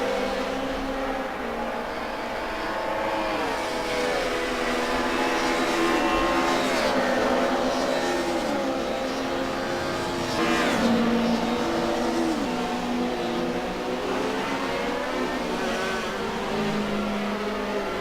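BMW E30 M3 race cars at Mugello in Assetto Corsa howl loudly as engines rev and climb through gears, pitch sweeping up and down as cars pass close by in a continuous pack.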